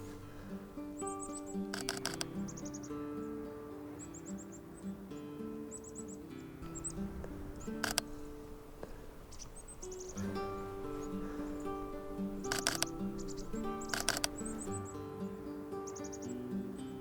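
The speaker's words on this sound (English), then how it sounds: "bird activity's picking up again" Birds call in a snowy winter landscape, with repeated short high chirps and twittering spread through the scene, mid-distance and moderately faint over a steady low background, broken by a few sharp clicks.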